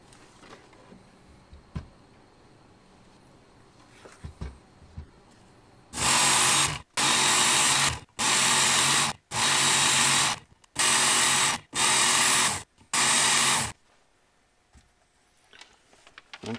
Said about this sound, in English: It's a fine day to grind metal.